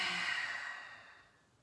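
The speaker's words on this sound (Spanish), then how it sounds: "Exhala lo profundo por la boca." A deep breath let out through the mouth during a yoga breathing practice, a soft breathy whoosh that starts fairly strong and gradually fades over a second or so, heard alone.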